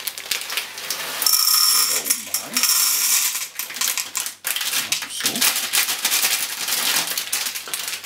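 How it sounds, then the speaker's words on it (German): A popcorn machine rattles and clatters as corn kernels are poured in and tumble around, a busy mechanical rattling with clicks and ticks throughout, close and fairly loud. "ich habe da eine Popcornmaschine, so einen Popcornautomaten, da kommen da die Körner rein."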